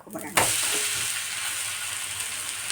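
A flipped onion dosa sizzles on a hot pan with a sudden burst of bright, steady frying hiss that holds evenly, close and fairly loud, with no talk.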